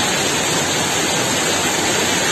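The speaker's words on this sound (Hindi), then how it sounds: "हमें एक पुल पे एक और बहुत ही बेहतरीन झरना देखने को मिला है।" A constant loud roar of a waterfall by a bridge in a Uttarakhand village fills the air, a dense unbroken rush of falling water with no other sounds.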